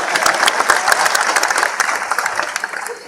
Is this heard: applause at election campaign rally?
yes